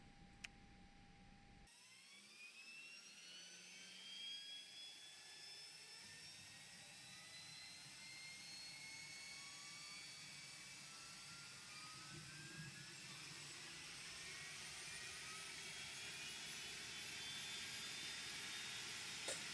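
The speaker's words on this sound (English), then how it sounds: "I am working with the additional sound pack for the IAE engines that Toliss provides." Airbus A319 IAE jet engines spooling up in a flight simulator game, with a rising turbine whine that climbs steadily in pitch and builds into a loud, continuous roar with no talk.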